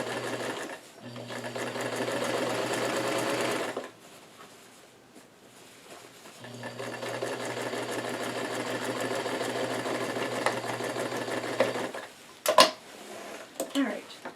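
A sewing machine stitches all the way around a newsboy cap in two long, steady runs of rapid whirring, close and loud, split by a pause and ending in a few short clicks and handling knocks.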